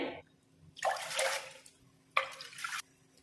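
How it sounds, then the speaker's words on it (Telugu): Water pouring into a pot on a stove for a millet sweet, two short bursts of splashing, fairly faint against a quiet room. "స్టవ్ మీద పాత్ర పెట్టుకొని వాటర్ పోసుకోవాలి."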